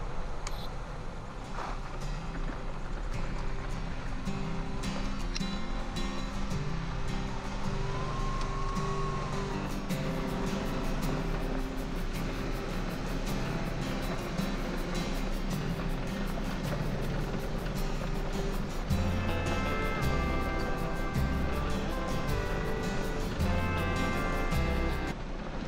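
A Jeep drives along a forest road in Wayne National Forest, Ohio, its engine and tyre rumble a steady, continuous drone throughout, with music playing over it.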